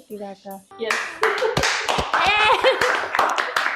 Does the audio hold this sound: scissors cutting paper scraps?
no